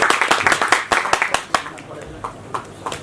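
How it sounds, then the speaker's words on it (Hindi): Applause at an Indian music video launch event: several loud, fairly close claps come at first in a quick, uneven patter, then thin out into a few scattered claps. "एक बार जोरदार तालियां हो जाए पूरे माहौल के लिए"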